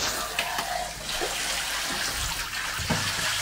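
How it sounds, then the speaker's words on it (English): A French Bulldog gets a bath under running water, with a steady, loud spray and splash from a tap or shower hose that fills the whole stretch, plus occasional small thumps and sloshes. "The French Bulldog is having a bath, and I am having a laugh"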